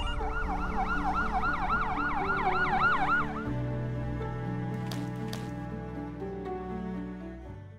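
An ambulance siren wails loudly in rapid rising and falling sweeps, then switches to a slower, steadier tone.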